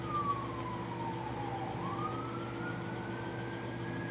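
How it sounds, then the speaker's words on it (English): An ambulance siren wails faintly in the distance outside, one long slow tone dipping and then rising again over a steady low background hum, with no talking. "You can hear the ambulance."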